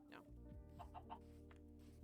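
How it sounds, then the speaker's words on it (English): Chickens in Minecraft give a few quiet in-game clucks, spaced and faint over a low background hum during gameplay, with no talking. "Very rude, you chickens."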